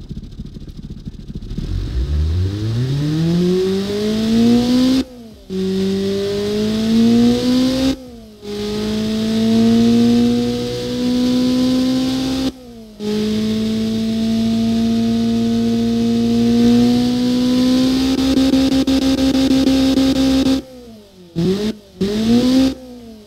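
Close and loud, a tuned Honda D16V1 engine runs and is revved repeatedly, its pitch sweeping up and holding high. Several sharp cuts break in between rises, ending in quick blips.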